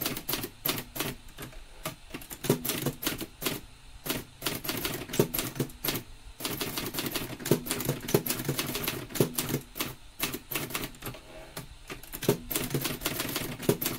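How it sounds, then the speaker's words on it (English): A manual typewriter clacks through a letter, with bursts of sharp key strikes broken by short pauses and the ratcheting slide of carriage returns, close and steady. "Another three carriage returns, and we type the address of the recipient."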